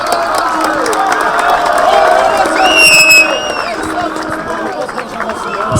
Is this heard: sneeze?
no